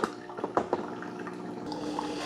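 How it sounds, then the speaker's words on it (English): Mueller U-700 single-serve K-Cup coffee maker dripping near the end of a brew: a few soft liquid drips and small splashes over a low steady hum, quiet and close. "And then towards the end of the brew, it does drip a little bit."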